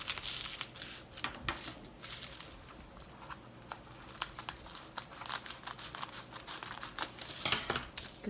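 Scotch Flex and Seal packaging material is folded and crinkled close by, making irregular bursts of crackling and rustling with short pauses between.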